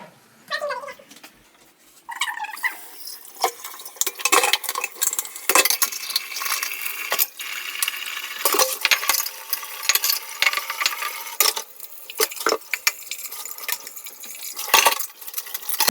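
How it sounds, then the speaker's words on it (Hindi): Dishes are washed at a home kitchen sink, a pressure cooker and a few plates clinking and clattering under running water, with sharp close knocks scattered irregularly through the scrubbing, while a cat meows at the start. "गाइस जब तक चाय बनेगी तब तक मैं बर्तन धो देती हूँ, क्योंकि थोड़े ही हैं, कुकर और थोड़ी प्लेट्स हैं"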